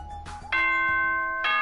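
An announcement chime from the video game Danganronpa 2 sounds, first a short tone and then a bright, sustained electronic bell chord, with another chord starting at the end.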